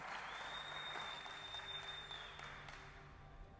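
Audience applause for a speaker at a talk on new cities and network states, a continuous wash of clapping that slowly fades, with a faint high electronic whine running through it.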